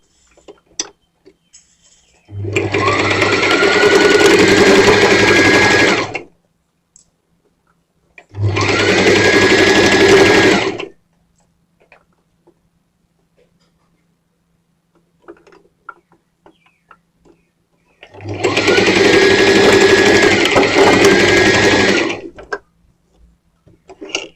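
A sewing machine stitches a simple skirt in three separate runs of a few seconds each, close and loud, with quiet pauses between them.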